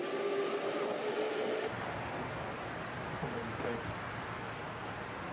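Train noise at Ichigaya station in Japan: a steady rumble and hiss of rolling stock with a faint high squeal early on, continuous and fairly close.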